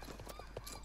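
Horse hooves clip-clop in the game Star Stable Online, a short quick run of soft, even steps close by, with faint talk underneath.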